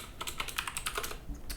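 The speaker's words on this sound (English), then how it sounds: "I prefer just typing out J and T these days" Rapid, steady typing on a computer keyboard, close and crisp keystrokes in a quick even rhythm, with no talking.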